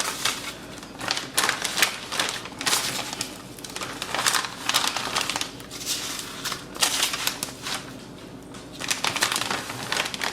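Plastic bag crinkling and rustling as raw Wagyu steaks are packed into it, a close, busy run of dry crackling bursts with short pauses, no talking.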